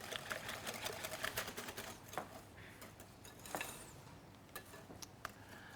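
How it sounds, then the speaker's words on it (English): A whisk clicks and taps rapidly against a bowl while tart filling with pepper and lemon zest is mixed, a quiet, busy run of close metallic ticks and scrapes in uneven bursts. "Now just give that all a really good whisk, just to make sure it's all really well incorporated and mixed together."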